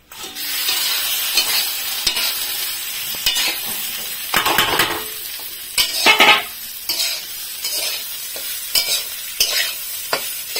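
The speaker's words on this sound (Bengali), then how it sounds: "ততক্ষণ ভাজবো যতক্ষণ না চালটার কালারটা একটু চেঞ্জ হয়ে যায়।" Marinated rice stirred and fried in a pan with whole garam masala and bay leaves, a steady close sizzle with repeated scraping of a spoon against the pot and occasional louder stirring clatters, with no talking.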